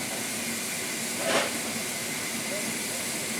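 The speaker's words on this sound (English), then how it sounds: "Steam heating" Steam heating on a heritage railway train hisses in a continuous loud rush, with a brief stronger burst partway through, during a Santa Trains day on the Kent and East Sussex Railway.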